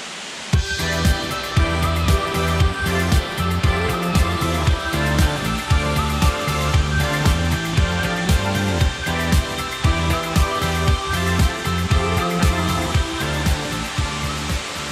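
Waterfall cascading beside a mountain trail near Lac de Vezoles, a steady loud broadband rush of falling water with a rhythmic low thumping layered underneath throughout.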